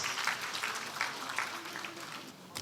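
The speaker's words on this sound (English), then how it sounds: "Big round of applause" A conference audience at a 2023 law event applauds a speaker from Airtel Uganda with a short, steady patter of many hands clapping, fairly close and even throughout.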